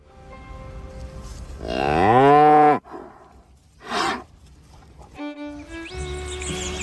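Dairy cattle moo loudly, one long drawn-out call followed by a shorter, rougher one, with faint farm background noise and other animal sounds around them.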